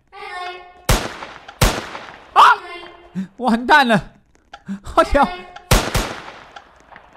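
Gunshots in Roblox Squid Game: several loud, sharp shots crack out one at a time at uneven gaps, with excited, frightened speech from a player between them.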